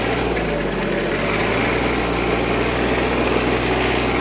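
Tractor engine revving under load with a Mateng NEFL 95 mulcher attached while stuck and slipping in a field, a loud, continuous close engine roar with a steady droning tone.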